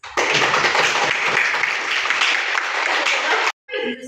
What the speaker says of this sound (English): give yourselves a round of applause for having a complete attendance